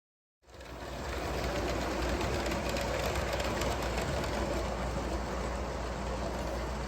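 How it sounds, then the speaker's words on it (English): Toy model trains run along their track, a steady mechanical whir and rattle that starts abruptly and holds at a constant, fairly loud level for several seconds, with no voices. "Let's run some trains."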